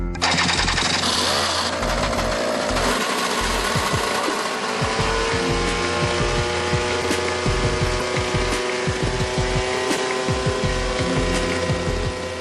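A compact personal helicopter powered by four tiny yet powerful engines, each about the weight of a large chicken, makes a loud, steady mechanical drone with a buzzing whine that builds and then holds continuously close by.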